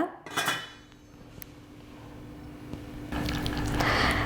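A Prestige cooking pot's thin metal lid clinks and scrapes as it is lifted and handled, a few sharp metallic knocks followed by softer rattling, close and fairly quiet with no speech.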